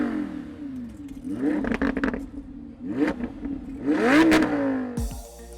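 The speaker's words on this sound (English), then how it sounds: "Tomorrow's performance car might let you download engine sounds of your choice." Synthetic engine note of an electric supercar piped through speakers, rising and falling in repeated revving swells with a whirring, tonal character, fairly loud and close with no talk.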